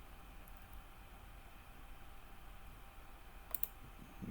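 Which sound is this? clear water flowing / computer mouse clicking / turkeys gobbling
computer mouse clicking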